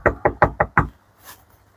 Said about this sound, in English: This time I'm going to knock before she sends her to place.